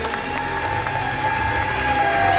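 Audience applause and cheering for guests at a Thai DEP for Love charity event, a broad steady wash of clapping from a crowd under a sustained tone, with no talk.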